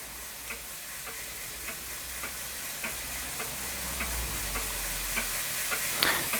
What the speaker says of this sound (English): the safety valve is kind of bubbling away